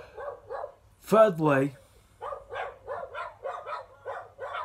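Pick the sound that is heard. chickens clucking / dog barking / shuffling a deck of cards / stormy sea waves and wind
dog barking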